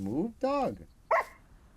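A dog in a survival video game lets out two or three short, whiny barks and yelps in quick succession. They are close and fairly loud.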